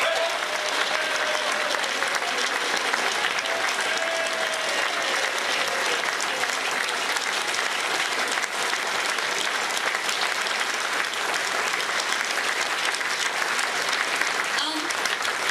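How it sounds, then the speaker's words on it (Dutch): An audience at a Beringen revue applauds its director, a steady, dense round of clapping that fills the hall and holds evenly throughout, with a faint voice near the start. "Mogen ik een applaus voor onze regisseur Ann Flipsen"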